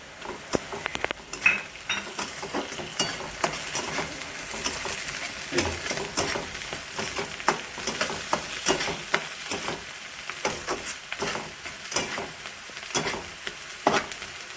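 Curry leaves hit yellow potato curry in a pan, and a soft frying sizzle runs under frequent sharp clicks and scrapes of a spoon stirring against the pan, with no talk.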